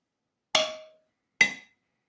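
Two separate spoon taps on an unsealed canning jar lid, each a short, flat knock that dies quickly, close up with silence around them.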